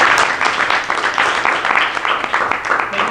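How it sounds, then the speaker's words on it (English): Sustained applause from a conference audience at a startup demo day, dense and steady clapping throughout with a faint voice beneath it. "Give them a round of applause."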